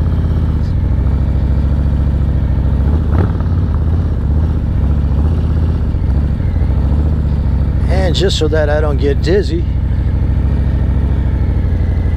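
Motorcycle engine held at a steady low rumble while riding slow circles, heard under someone talking close to the microphone, with a brief louder surge near the end.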